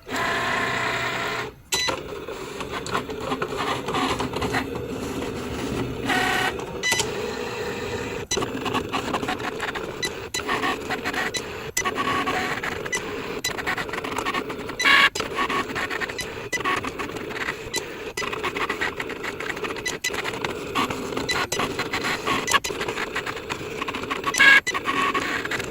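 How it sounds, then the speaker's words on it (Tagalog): A Cricut cutting machine slices die-cut stickers at home, giving a steady, continuous mechanical whir and rattle with small clicks, fairly close and unchanging in level for nearly half a minute, with no talking. "nag-umpisa nang mag-cut yung machine"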